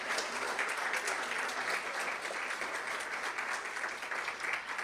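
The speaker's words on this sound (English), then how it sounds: "Now let's give them a huge round of applause" An audience at a school district board meeting applauds, with many hands clapping in a thick, even roar that holds steady and fairly loud for about five seconds without any voices.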